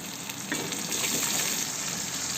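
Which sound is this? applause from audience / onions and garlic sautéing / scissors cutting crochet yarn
onions and garlic sautéing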